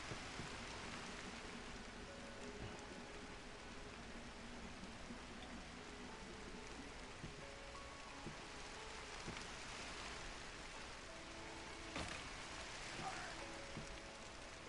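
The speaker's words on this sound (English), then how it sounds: "it will rain while I'm building the roof" Rain falls in a video game while a roof is being built, a faint, steady patter and hiss continuing throughout with no speech.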